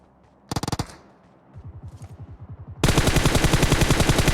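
Gunfire in PUBG Mobile: a quick close burst, then a quieter distant string of shots, followed by a loud, sustained rapid automatic volley.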